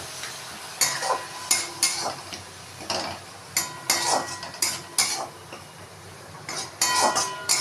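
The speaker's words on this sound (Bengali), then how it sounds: "মশলাটা এইভাবে কষিয়ে নেব" Spice paste for a spicy clam dish being sautéed and stirred in a pan, with repeated spoon scrapes and clinks over a low sizzle, close and fairly loud in irregular bursts.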